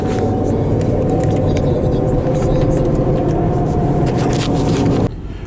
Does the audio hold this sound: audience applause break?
no